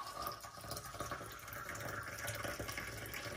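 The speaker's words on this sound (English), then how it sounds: "I'm going to actually pour this into the golden syrup so it loosens it up and dissolves it." Hot coffee trickles into black treacle while brewing a coffee porter beer, a thin, steady liquid stream, fairly faint and close, with no talking.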